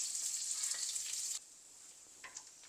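Onion and garlic fry in oil with a loud, hissing sizzle that suddenly drops to a much quieter simmer halfway through, followed by a couple of light stirring taps.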